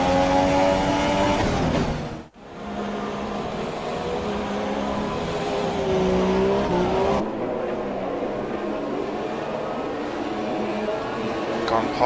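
Race cars in a Formula-style racing video game on a Spanish circuit, engines droning steadily with shifting pitch and a brief cut, speech heard over the engines.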